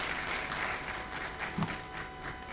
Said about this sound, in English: Let's sustain the applause till it gets here